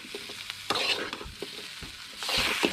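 Pieces of kadachakka (breadfruit) stirred in a frying pan, a soft continuous sizzle broken by several scraping strokes of the spoon, building to a brighter burst of frying near the end.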